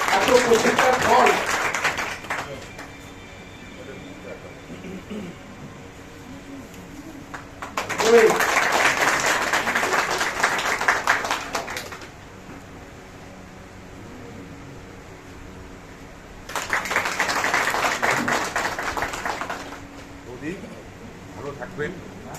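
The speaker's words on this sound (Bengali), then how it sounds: "জোরে হাততালি হোক, এত প্রচেষ্টার ফল।" An audience claps warmly at a company farewell ceremony from ECS for a retiring father-in-law. Three separate bursts of applause each rise and fade over a few seconds, with someone speaking in between.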